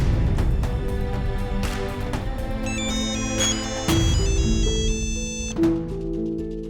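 A phone rings while a call to a friend is placed: a bright electronic melodic ringtone repeats its tones steadily and fairly loudly, with no voices over it.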